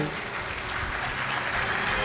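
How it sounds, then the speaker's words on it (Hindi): Audience applause welcoming guests at a devotional kirtan gathering, a steady, dense wash of many hands clapping together throughout, fairly loud and continuous, with voices faintly mixed in. "एक बार तालियां बजा के हार्दिक स्वागत कर दो।"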